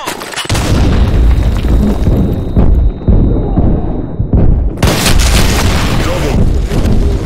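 Deep booming explosions from a grenade in a shooter video game, with a heavy blast, a brief lull, then another loud rumbling detonation, all close and loud.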